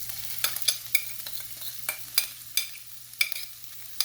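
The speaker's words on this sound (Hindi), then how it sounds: "अब इसको मैं भून के, चिकन का कीमा है, जल्दी भून जाएगा भून के" Marinated chicken keema frying in a pan, a steady hiss broken by repeated scraping stirs of a spoon against the metal, close up with no talking.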